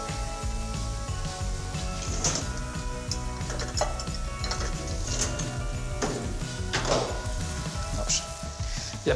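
Apples sprinkled with sugar and lime zest fry in butter in a pan, a steady close sizzle running throughout with several sharper crackles and stirring scrapes rising over it.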